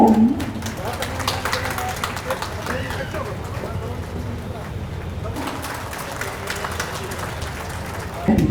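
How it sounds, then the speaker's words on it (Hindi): Sustained applause from an audience at a police passing-out parade ceremony, a dense outdoor wash of clapping holding steady, with a voice speaking over it at the very start and end. "तालियां हो।"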